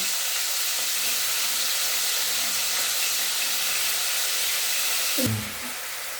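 Vegetables sizzle steadily in hot mustard oil, a broad continuous hiss holding throughout and dropping slightly near the end, with no talk over it.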